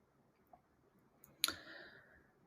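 A single mouse click confirms a view setting in HubSpot CRM software, sharp and brief over a quiet background.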